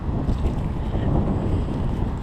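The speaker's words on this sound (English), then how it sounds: "It's breezy." Wind gusting outdoors at a creek-side park, a loud, continuous low rumble of buffeting air across the microphone, steady throughout with no voices.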